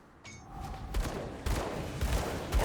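Gunfire rattles in a video game as a gunslinger shoots down enemies, a fast volley of overlapping shots and impacts under faint game sounds.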